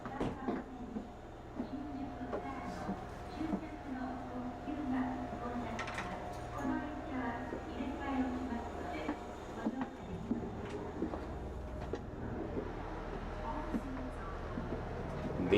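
A JR Chuo Line train running, heard from inside the passenger car, with a low steady rumble and hum, faint rattles and clicks across the cabin, and a muffled background voice now and then.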